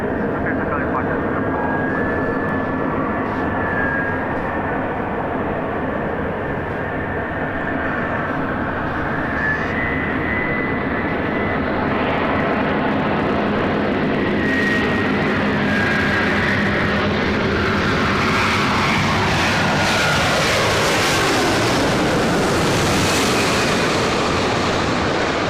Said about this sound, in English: Big Q A350 1000 coming up from Doha.